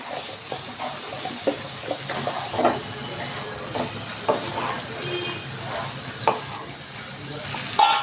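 Flat beans from the garden tossed into a hot pan with cumin, coriander paste, chilli powder and a little water, sizzling steadily with spatula stirs and scattered taps against the pan, close, without clear talk.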